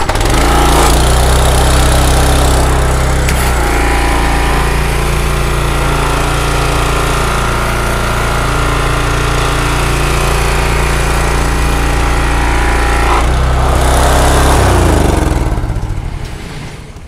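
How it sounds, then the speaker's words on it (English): A Honda engine on a 20-inch Mi-T-M Hydra Scrub surface cleaner catches and settles into a loud, steady close-up drone, its pitch briefly shifting near the start and again near the end before it begins to fade. "Now to start it up, we're gonna turn our switch on the Honda engine here, pull the choke."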